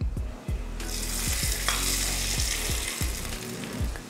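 Hot oil tempering with mustard seeds and curry leaves sizzles steadily as it is poured into toor dal chutney, with a bright continuous crackle and repeated low clinks of a utensil, close up and without speech.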